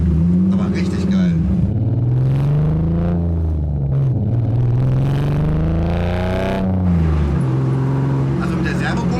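A self-built Ferrari F40 replica's engine runs loud and close, its pitch rising and falling through several revs, while people talk over it.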